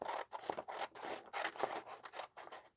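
Scissors snip through paper in quick repeated cuts, shaping a row of nine mixed-media forest dolls; close, crisp blade strokes come in an uneven rhythm with no talking.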